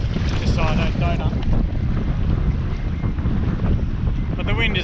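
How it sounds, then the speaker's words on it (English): Strong wind buffets the microphone at sea during kayak fishing off Perth, a loud, constant roar with waves and water sloshing under it and brief voices coming through. "But the wind is very strong."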